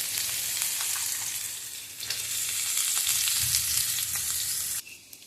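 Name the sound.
ginger, onion and carrots frying in a pan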